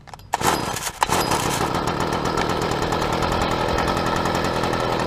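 An old, tired string trimmer or leaf blower with eight years of commercial use cranks over with a brief rattle, then catches and runs at a steady, loud, buzzing idle close by.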